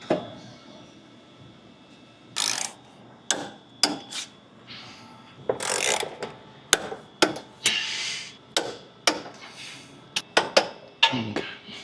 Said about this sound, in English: We like to torque them all down with just hand tools.